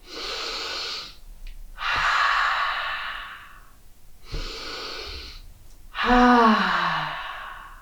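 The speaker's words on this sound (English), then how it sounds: "Inhale. Exhale through the mouth. Inhale." Four slow, deep breaths, alternating audible inhales with long breathy exhales through the mouth, close and clear in a quiet room with no talking.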